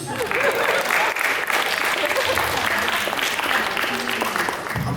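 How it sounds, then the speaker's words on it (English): Audience applause at a live event, a sustained, dense round of clapping from a crowd, with voices briefly audible over it. "let's give a big round of applause"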